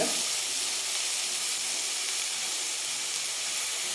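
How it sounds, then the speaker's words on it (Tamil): Curry leaves, slit green chillies and tomato sautéing in a pan, giving a steady, close sizzling hiss that runs evenly throughout with no talking. "2 பச்சை மிளகாய் வகுந்து வச்சுருக்கிறேன், அதையும் சேர்த்துட்டு இதை நல்லா வதக்கிக்கலாம்"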